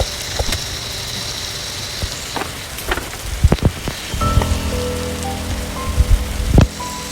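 Steady rain pours in a Roblox forest survival game, a constant hiss on surfaces with scattered drop taps and occasional soft game clicks layered on top, no voices.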